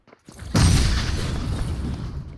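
A grenade goes off in a video game with a sudden loud, close boom after a brief quiet, then a rumbling decay that fades over the next two seconds.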